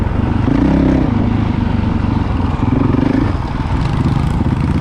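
A Yamaha YZ65 or Honda CRF450L dirt bike engine idles in first gear, a loud steady throbbing drone with a rapid rhythmic pulse and slight rises in pitch, heard alone without talk.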